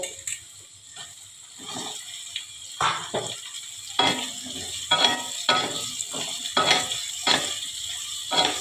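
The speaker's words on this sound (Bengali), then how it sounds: "কেটে রেখেছিলাম এই কুচুনো পেঁয়াজগুলো আমি দিয়ে দেবো ভালো করে ভাজা ভাজা করতে হবে" Chopped onions and potatoes frying in a pan for an egg omelette curry, a constant hiss with repeated close scrapes and clatters of stirring at a steady, uneven rhythm.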